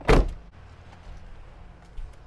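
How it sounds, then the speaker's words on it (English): A campervan door slams shut with one loud, close thud, followed by a rattling interior hum and a second softer knock near the end. "I shut the door."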